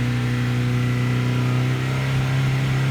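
A 1998 Ford Contour with a 2.0L engine revs and holds high, a steady loud hum with strong tonal drone that sags slightly near the end as the engine begins to bog down.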